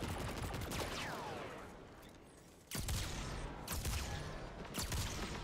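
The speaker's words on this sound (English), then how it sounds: "I hear that rapid fire snipe" Rapid sniper shots ring out in Destiny 2, sharp loud cracks spaced about a second apart with a brief lull in the middle, each blast trailing into a short echo.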